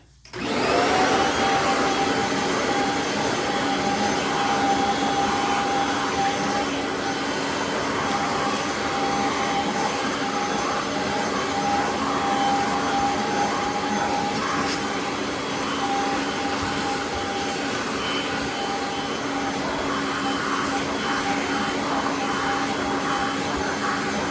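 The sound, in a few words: upright vacuum cleaner running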